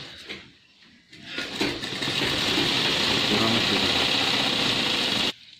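A sewing machine runs steadily for several seconds, stitching a strap onto a doctor's apron at a garment workshop, a loud continuous whirr that starts after a few soft handling sounds.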